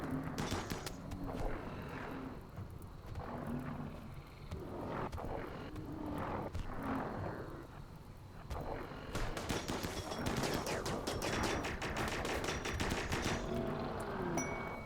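Gunfire in a Rimworld video game mech fight, with eight colonists firing on a mech: rapid overlapping shots and bursts crackle continuously, growing denser and sharper in the second half.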